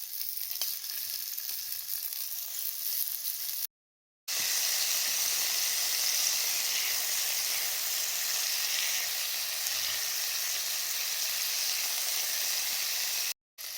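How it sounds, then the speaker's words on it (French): Shrimp seasoned with salt, pepper and smoked paprika fry in a pan for fried rice, giving a loud, steady hissing sizzle that runs on without talk, broken by two brief silent cuts. "Dans la même poêle, je vais venir frire les crevettes."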